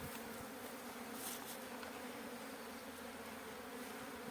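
Honeybees buzz around a hive in a steady, close drone, with individual bees briefly whining louder as they pass near.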